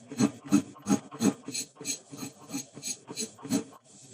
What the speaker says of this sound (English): use our pre-buff solution and a scraper